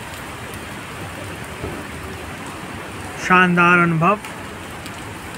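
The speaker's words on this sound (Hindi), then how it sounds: "ये बारिश का मौसम और ये अपना कैंपस" Steady rain patters and hisses throughout on a Delhi University law campus, and a person speaks briefly over it toward the end.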